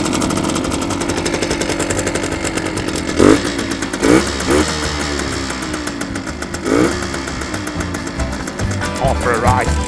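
Engine of a classic Japanese barn-find motorcycle, running steadily and close with a buzzing, revving tone and a few sharper throttle blips, while people talk over it.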